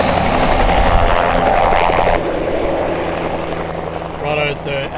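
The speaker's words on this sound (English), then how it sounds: "so as the helicopter took off just then" Helicopter taking off in Australian bushland during a deer hunt, its loud rotor chop and turbine whine dominating at first, then dropping away somewhat as it departs, with a voice speaking near the end.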